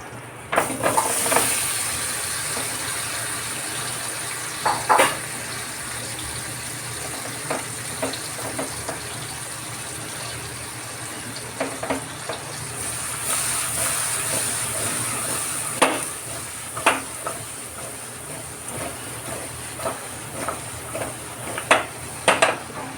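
Gunda berries tempered in hot oil on a low flame, a continuous sizzling hiss broken by scattered sharp pops and spatters, with no talking.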